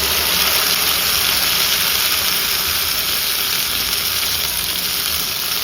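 Chicken curry spice paste fries in hot oil, a steady close bright sizzle with constant crackle and no voices.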